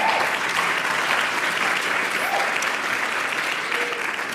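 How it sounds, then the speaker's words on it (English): Steady, dense applause from an audience at a South Asian art event fills the space, holding at an even level throughout with no pauses. "if you could stand and we could give you a round of applause"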